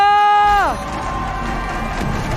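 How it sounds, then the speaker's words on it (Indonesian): A packed esports arena crowd at an MPL Mobile Legends match between Bigetron and RRQ erupts into a loud, sustained roar of cheering and shouting. The last syllable of an announcer's voice comes just before the crowd swells in. "MPL Arena mana tepuk tangannya?"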